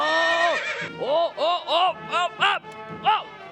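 A horse neighs loudly and close by in a theatrical outdoor performance, first with one long whinny, then with a string of shorter rising and falling calls in quick succession.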